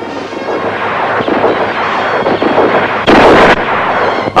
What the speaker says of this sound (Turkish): Şuraya hesaplı bir bomba yollayıver ustura.